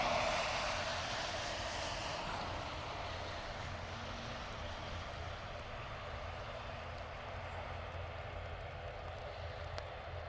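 A turboprop ATR airliner at Dublin Airport produces a steady, broadband engine roar with a faint propeller hum, holding at a fairly constant loud level throughout, heard alone without talk.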